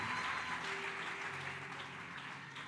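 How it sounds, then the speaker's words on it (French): A church congregation applauding for the Lord: dense clapping from many hands, loud at first and then easing slightly, steady and continuous. "Acclame pour le Seigneur."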